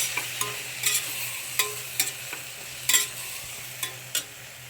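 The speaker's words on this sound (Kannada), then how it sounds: "ಇವಾಗ ಪುದೀನ ಕೊತ್ತಂಬರಿ ಹಾಕೋಣ ಸ್ವಲ್ಪ ಫ್ರೈ ಮಾಡಿಬಿಟ್ಟು" Mint and coriander fry in a pan for mushroom pulao, a soft sizzle running underneath while a spoon scrapes and taps against the metal in sharp, irregular strokes every half second or so.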